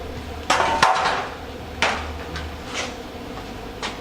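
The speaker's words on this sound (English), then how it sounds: "I put a pan underneath." A metal drain pan set down under the brake caliper of a fourth-generation Trans Am/Camaro, giving a few sharp metallic clanks and scrapes up close, with no talk.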